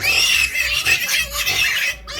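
Piglets under a heat lamp make loud, continuous high-pitched squealing with some wavering, close and steady before a brief break near the end, with no talk.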